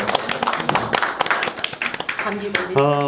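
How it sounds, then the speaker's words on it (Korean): Audience clapping at a Korean public forum: sharp, uneven claps in quick bursts, fairly close, with voices talking over them and a speaking voice taking over at the end. "다시 한번 박수를 쳐주세요."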